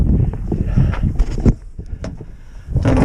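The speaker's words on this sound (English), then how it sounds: "it's kind of windy" Wind gusting outdoors beside a truck during a basement water-leak repair, buffeting the microphone in loud, uneven rumbling bursts with brief lulls, plus some faint rustling and handling noise.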